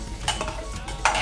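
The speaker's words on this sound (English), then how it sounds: "stir it" Chickpeas are stirred with sauce in a pot for chana masala, with short scraping strokes and light clinks of a spoon against the metal, close and brief, over a low background hum.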